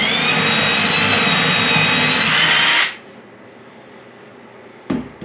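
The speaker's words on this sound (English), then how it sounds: "I'm going to drill 1 hole." A power drill whirs at high speed for about three seconds while drilling a hole in a trapping sleigh build, then stops abruptly, leaving quiet room tone and a brief clunk near the end.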